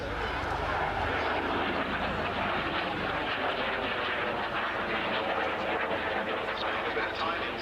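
A 1960-built ex-Royal Air Force aircraft, XM479, runs at an air and country fair, its steady engine drone droning on beneath a public address announcer who talks over it throughout.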